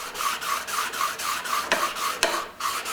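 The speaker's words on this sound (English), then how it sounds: "I lay my card scraper down right on the bench" A steel card scraper is rubbed back and forth on a sharpening stone resting on a workbench, making a close, steady rhythmic rasping with regular strokes and a couple of sharper clicks.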